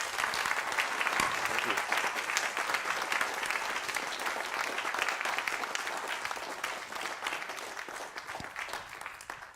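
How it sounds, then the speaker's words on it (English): An audience in a lecture hall gives a big round of applause for a presenter, sustained dense clapping at moderate distance, with a brief spoken thanks over it. "Let's give him a big round of applause."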